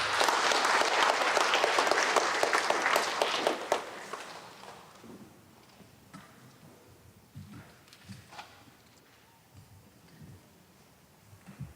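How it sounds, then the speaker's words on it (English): A big round of applause from the audience at an Avei'a graduation ceremony, loud and full for about four seconds, then thinning into scattered claps, shuffling and faint movement. "Please give a big round of applause for Jemima."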